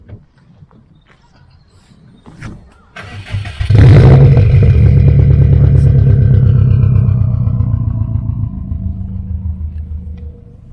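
A Subaru WRX STI starts up close by: a brief cranking whir, then the engine catches with a loud burst and settles into a deep, rumbling idle that slowly eases, standing alone without talk.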